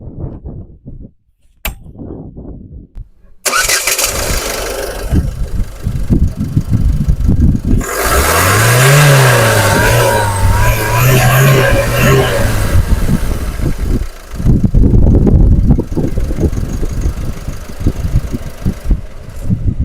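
A Ford EcoSport engine starts after a few quiet clicks, idles with a steady rumble, then revs up and down several times before settling.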